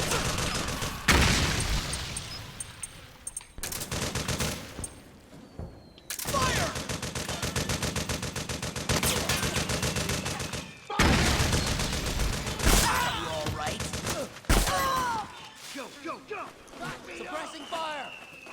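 Heavy video-game gunfire from Metal Gear Solid 4 on PS3, dense fusillades and machine-gun bursts in repeated loud stretches, with shouted voices over the shooting.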